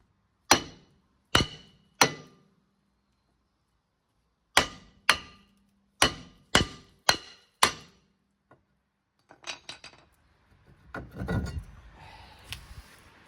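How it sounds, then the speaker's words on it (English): A hammer strikes a stuck brake disc on a 30-year-old car in sharp, ringing blows, single and in quick runs, about a dozen hits, followed by quieter scraping and clattering. "the disc was stuck on there quite well, so we got the hammer back out."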